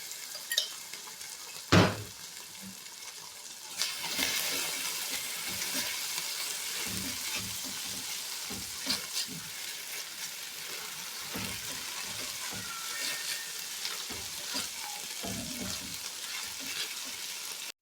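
Ginger and garlic paste frying in a pan of sautéed onions for a Lahori beef keema karahi: a steady, close sizzle with a loud clank near the start and occasional stirring scrapes.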